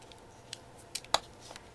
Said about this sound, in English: I'm going to take my deco edge scissors